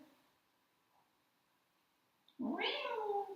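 A person imitates a cat's drawn-out howl, a loud rising and wavering yowl that starts abruptly after near silence.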